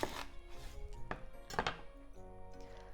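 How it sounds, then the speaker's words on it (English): A knife cuts an onion in half, giving a few sharp, close chops against a board in a quiet kitchen. "Onion. Let's cut it into half."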